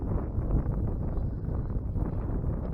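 Wind blows across an open pond in late December, a steady, loud low rush with gusty buffeting against the microphone and no voices.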